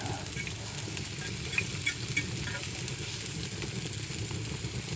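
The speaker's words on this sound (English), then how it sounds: "I just want to fry these onions up first and let them go" Onions frying in a very hot pan over a fire: a loud, continuous sizzle with crackling pops close by and a low rumble underneath, steady for several seconds with no speech.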